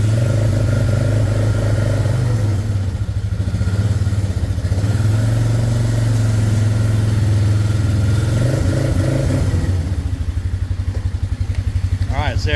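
A small engine idles steadily after starting, a loud, even low rumble with a regular pulsing beat that holds for the whole stretch and wavers slightly near the end.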